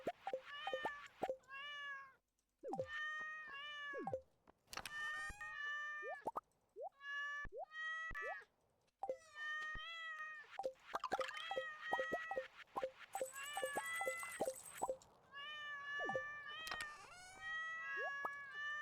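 Rapid cartoonish cat meows from the meow traps in the video game Stardew Valley, dozens of short, close meows fired in quick bursts with brief gaps between them, together with plopping and dripping game effects and no talking.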